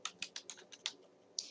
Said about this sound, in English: I'm just typing in a little bit of this so we'll have it.